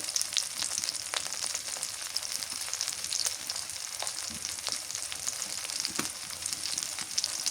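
Green chillies and salt go into a hot frying pan, and oil sizzles and crackles steadily and close, with a few scattered sharper pops; no one speaks.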